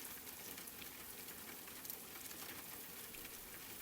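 Soft, steady rain patters continuously as cozy ambience near a wooden house, a faint, even hiss of drops with no distinct individual hits and no voices.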